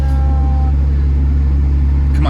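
A manual Ferrari's engine hums steadily at low speed during a stick-shift lesson for a learner driver, loud and close, with a constant low drone and no clear rev climb.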